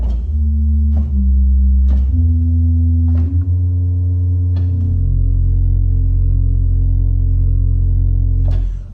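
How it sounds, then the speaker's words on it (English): Pipe organ's 16-foot Bourdon pedal stop sustaining deep, soft low notes that shift pitch in a slow line, loud and steady, with faint clicks as notes change and no talking. "the pedal stop is also here on the right, and as you've probably guessed, it is a 16 foot Barton."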